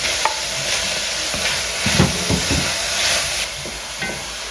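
Onions hit hot oil in a pan with smoked bacon strips, giving a loud continuous sizzle and hiss, with stirring scrapes and small bursts of spattering close by and no talk.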